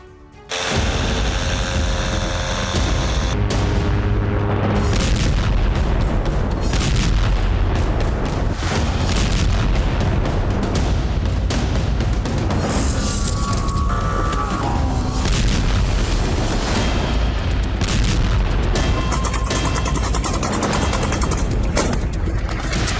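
Wartime explosions strike Russia, from frontline cities to Moscow, heard as a dense chaotic barrage of loud booms, blasts and bursts of gunfire that continue almost without pause after a brief quiet start.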